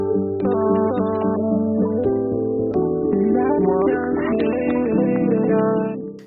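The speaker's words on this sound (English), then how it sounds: "turn them into low quality underwater sounds like this" A song given a low-quality underwater effect plays continuously, muffled and dull with smeared, warbling tones and no crisp highs, steady and loud throughout.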